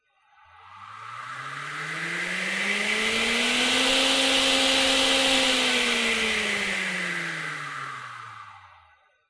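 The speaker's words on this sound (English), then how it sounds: "Watch how the motor accelerates in a slow, controlled way, even as I turn the knob very aggressively." A Teknic ClearPath integrated brushless motor whines upward in a smooth rising tone, ramping slowly to speed, holding, then winding back down over about nine seconds with broad airy hiss; no voices.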